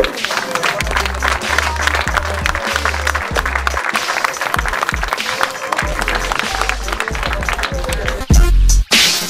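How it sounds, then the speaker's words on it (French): An audience in Dunkirk applauds the event's volunteers with loud, sustained clapping, voices murmuring through the crowd before a brief pause near the end. "On peut les applaudir, je pense."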